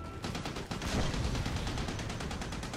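Heavy machine gun fire from Army of Two: The Devil's Cartel rattles in a rapid, continuous burst of evenly spaced shots, loud and close, with no talking over it.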